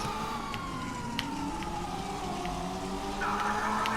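A police siren wails steadily in GTA 5 Online, a continuous rising-and-falling tone at moderate loudness with faint game sounds around it.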